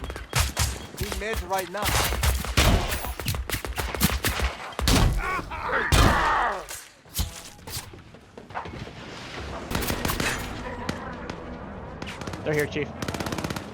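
Gunfire in the action-RPG Scavengers: rapid automatic bursts and single shots crackle repeatedly, loud and close, interleaved with short radio-style voices talking.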